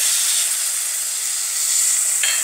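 Tamarind (kudampuli) water is poured into a hot Kottayam-style fish curry, giving a steady, close hiss and steam sizzle with no talking.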